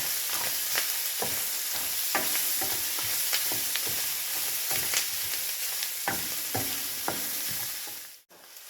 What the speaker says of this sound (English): And mix carefully.